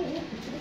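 White pigeons give a brief, soft cooing burble, close by and continuous over a moment with no voices.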